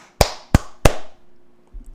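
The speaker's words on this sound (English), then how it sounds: "Sound of my cheeks clapping, dude" Three quick, loud slaps of cheeks clapping together close up, followed by a short near-silent pause and a faint rustle.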